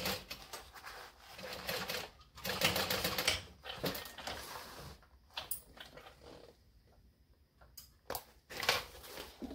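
A sewing machine stitches seams on a fabric bucket bag in fast, close mechanical bursts that stop and start, with short quiet gaps between runs and no speech.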